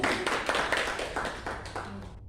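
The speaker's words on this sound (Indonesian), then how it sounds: "Silakan beri tepuk tangan dulu." Seminar participants clap for a speaker during a PPPK orientation session, a short burst of moderate, somewhat sparse clapping with distinct individual claps that fades out after about two seconds.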